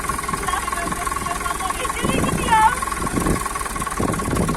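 A tractor engine runs steadily close by, a continuous low rumble during a first driving lesson, with people talking over it.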